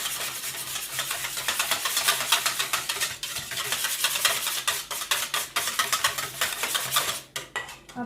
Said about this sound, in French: Je prends le fouet. Et je travaille bien, comme ça.